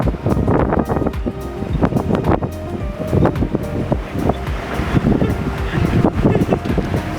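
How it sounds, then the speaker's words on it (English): Strong wind blowing over a sailing boat at sea, a loud continuous rushing and buffeting across the microphone, with water and hull noise churning beneath and faint voices mixed in. "the wind started to pick up and Abbie got her first real experience of sailing"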